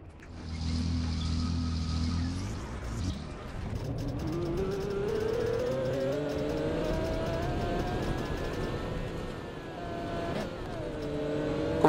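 Bus pulling away in the OMSI 2 driving simulator: after a steady idle hum, the diesel engine revs up with a rising pitch as it accelerates, then drops briefly at a gear change before climbing again, steady and close.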